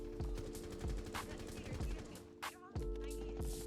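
L8 rifle gunfire in Rainbow Six Siege, several quick bursts of sharp automatic shots spaced across a few seconds, loud and close, with a faint voice under them.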